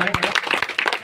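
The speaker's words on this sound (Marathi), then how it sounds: "जोरदार टाळ्या करत आहे" An audience at a bus shelter inauguration ceremony claps in a brief, dense burst of applause lasting about a second, with voices mixed in.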